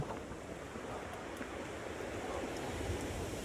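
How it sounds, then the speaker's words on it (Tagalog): Strong ocean waves and gusting wind roar together in a steady, loud, unbroken wash of surf and wind noise, with no voices. "Lakas pa ang alon. Ulan po pati, tsaka mahangin."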